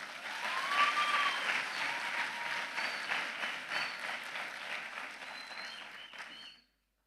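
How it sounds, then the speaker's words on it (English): Audience applause for graduating students at the 23 Alpha ceremony: sustained, dense clapping from a sizable crowd that holds steady for several seconds, then cuts off abruptly near the end. "Kan ons vir hulle 'n round of applause gee?"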